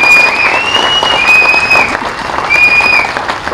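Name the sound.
audience clapping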